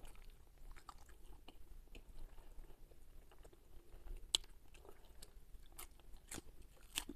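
Crispy fried carp being bitten and chewed close to the microphone, with steady crunching and wet mastication continuing throughout, plus occasional sharper crunches over faint background noise.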